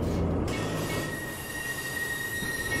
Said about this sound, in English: Oh, that noise! Rusty rails, rusty wheels.